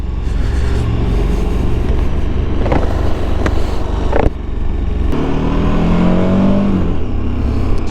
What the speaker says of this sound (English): it has got a nice sort of typical KTM growl to it